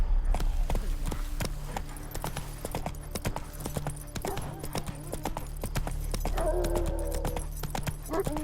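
Hooves of Roach, Geralt's horse in The Witcher video game, clip-clop in a steady rhythmic walk, close and clear, with a low ambient hum beneath.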